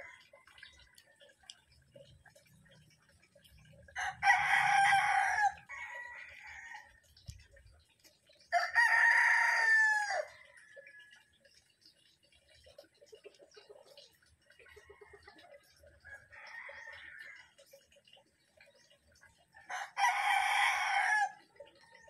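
Chickens around a yard, with a rooster crowing loudly three times at spaced intervals and softer clucking in between, close by with no talk.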